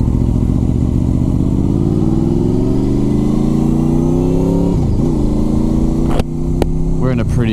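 Honda VFR800 motorcycle engine running, loud and close, its idle pitch sliding gently and settling steadily, then a few sharp clicks and brief blips near the end.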